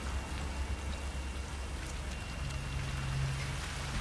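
Rain falls steadily in the video game Hitman 3, a close and even hiss of drops with a faint low hum underneath, continuing without a break.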